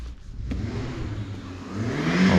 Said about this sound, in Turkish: sabah dayı çok fena gaza basıyor